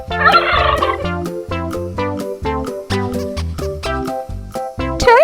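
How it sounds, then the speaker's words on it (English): Turkey gobbling on a farm: rapid, loud, rippling gobble bursts repeated throughout, close by, with no talk. "It's like a peacock but not a peacock. It's a turkey."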